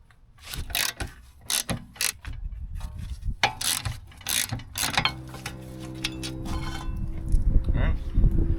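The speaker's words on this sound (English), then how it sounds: "Got my nice trusty socket and ratchet." A socket and ratchet turn bolts on a BMW E36, giving a close sequence of clicking ratchet strokes in uneven bursts, followed by a steadier mechanical whir, with someone talking briefly.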